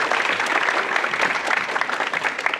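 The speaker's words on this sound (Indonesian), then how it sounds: "Tepuk tangan buat yang hadir pada hari ini semua dulu." A live audience at an Indonesian talk show gives a brisk, close burst of clapping for those attending, dense and fairly loud throughout with small rhythmic peaks.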